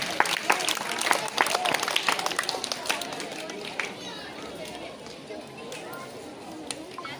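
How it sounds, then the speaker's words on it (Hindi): A crowd at a school GK quiz competition function claps together in dense applause that gradually thins and softens, with scattered claps lingering toward the end. "एक बार अपने लिए भी तालियां बजाओ"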